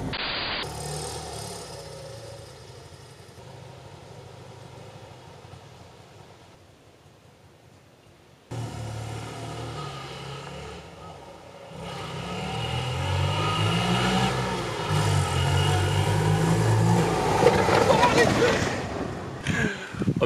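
Engine drone of an old Polski Fiat small car, driven after twenty years stored in a barn, holding a steady hum, briefly cutting out, then rising louder as it revs up while moving, with someone talking over it.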